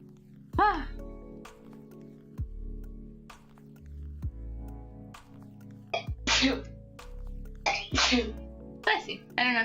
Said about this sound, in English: was sneezing in the background.